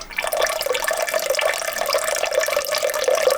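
A kitchen tap runs water into a pot, heating it for pasta e ceci in a small cabin kitchen: a steady, close splashing rush with a bright, bubbling edge, going on without pause.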